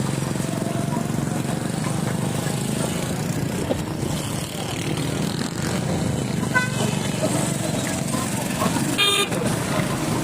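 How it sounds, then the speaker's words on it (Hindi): A motorcycle rides along a road on Eid day with a steady engine rumble and road noise throughout, and a horn toots briefly near the end amid the surrounding traffic. "हमने अपना मोटरसाइकिल भी निकाल लिया है"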